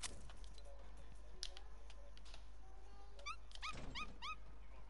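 A pet fox, or dog, in a video game makes a string of soft whimpers and a few quick high yips, faint against a low steady background.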